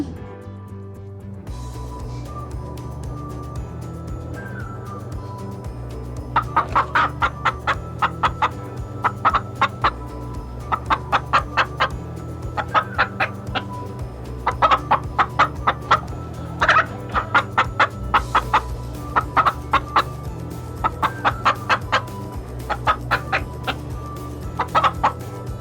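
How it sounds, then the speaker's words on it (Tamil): A hen clucks in repeated short bursts over a steady low background hum, close and clear, with the clucks coming in irregular clusters and no talking. "கோழி கொக்கரிக்கும்."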